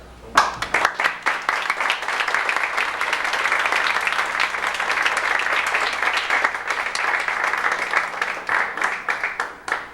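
An audience at an ITAM anniversary event for the Mexican Revolution applauds Professor Salmerón, with dense, sustained clapping that starts abruptly and fills the room before tapering into scattered claps.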